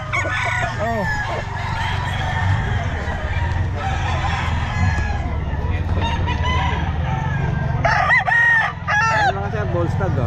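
Roosters and stags at a busy pet market in Bocaue crowing and clucking amid a dense crowd of fowl, with several loud crows near and far over constant murmuring and talk.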